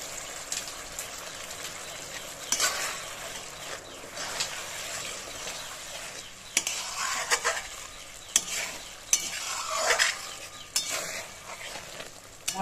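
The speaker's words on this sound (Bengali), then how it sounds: "দইটা দিয়ে ভালো করে নেড়েচেড়ে মিশিয়ে দেব" Curd being stirred into spice masala in a pan for a vegetarian doi potol curry: steady scraping and stirring with a soft sizzle, louder spoon strokes recurring every second or two, close and without talk.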